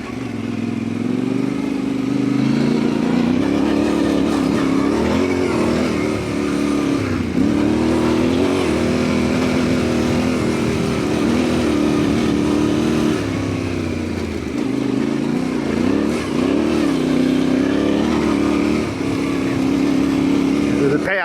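An adventure motorcycle rides through forest and pine plantation bush tracks, its engine droning loudly and continuously, revs rising and falling with the throttle for the whole stretch.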